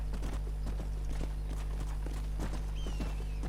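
Horse hooves clip-clopping in the video game Red Dead Redemption, a steady rhythmic walking gait of fairly loud, close hoof beats over a constant low background hum and music, with a brief faint whinny-like tone near the end.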